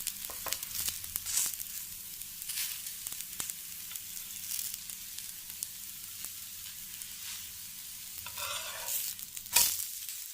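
Bajra dosa frying in a pan with a steady, soft sizzle, faint and close, broken by light scraping and a few louder crackles near the end; no voices.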